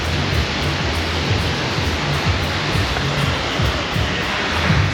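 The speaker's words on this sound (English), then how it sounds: "Small waves, perfect crystal water with incredible color" Small waves break and wash onto a beach at Playa del Carmen, a continuous loud hiss of surf with a low, rolling rumble underneath and no voices.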